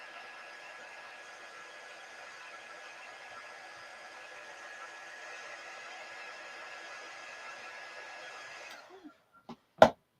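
Hair dryer blowing steadily and close on a chalk-painted wooden carrot shape for about nine seconds, a constant whooshing hum that cuts off, followed by a couple of sharp clicks.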